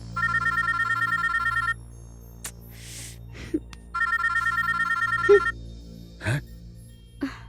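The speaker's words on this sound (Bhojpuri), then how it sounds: "हमेशा गलत समय पे फोन आवेला" A phone's electronic ringtone trills in two bursts of about a second and a half each, separated by a pause with faint rustles and knocks.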